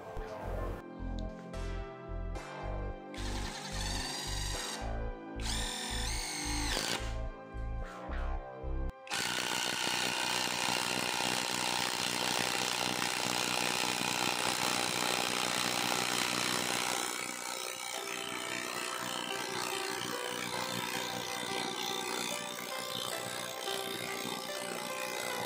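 A Nagawa 16V brushless impact driver drives a 12.5 cm long, 8 mm screw into wood without pre-drilling. Rapid rhythmic hammering bursts come first, then a long continuous grinding whir that shifts lower partway through.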